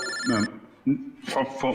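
A telephone rings with a bright electronic tone for about half a second, followed by voices talking over a low background hum.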